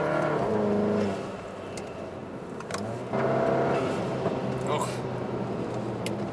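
Volkswagen GTI with an eBay intercooler upgrade, engine revving and then a throttle let-off, the tone dropping and rising again, under people talking.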